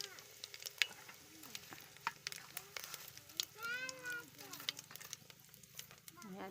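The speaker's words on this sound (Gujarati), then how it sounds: "થોડું નાખી દઈશું જીરું" Cumin seeds sizzling in hot oil for tempering dal, a soft, faint crackle and spatter with scattered pops, heard close under quiet speech.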